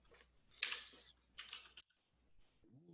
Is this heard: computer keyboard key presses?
yes